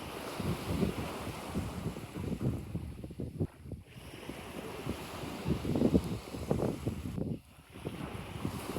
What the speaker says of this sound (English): This has got to be one of the best beaches we've been to on this trip.